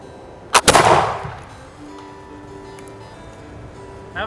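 A smoothbore musket loaded with a patched round ball fires one loud, close shot outdoors; the sharp crack is followed by a rolling boom that fades over about a second.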